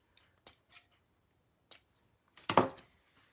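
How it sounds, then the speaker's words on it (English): Scissors snip through folded vinyl with a diagonal cut, giving a few short, crisp clicks followed by one longer slicing crunch, close and fairly quiet in an otherwise silent room. "So I'm just gonna fold that in the middle, give it a diagonal cut there down to the edge."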